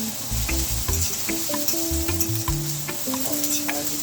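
Purple and white onions sizzle and crackle in a hot pan while being cooked for ackee and saltfish, a close, constant frying hiss with small pops and stirring clatter.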